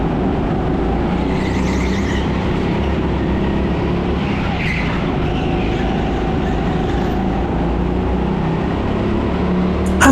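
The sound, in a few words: go-karts racing at TeamSport Sheffield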